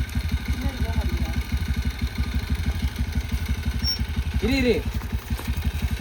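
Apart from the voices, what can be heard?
vehicle engine running while stuck in mud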